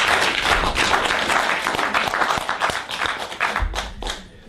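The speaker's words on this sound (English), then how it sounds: "If you want to clap, it's okay." Lecture audience clapping, a dense, close round of applause at a talk on the history of Christianity and Islam, loud and continuous before tapering at the end.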